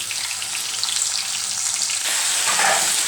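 Chicken with black pepper sizzling in a little hot oil for soup, a loud close hiss that swells slightly near the end.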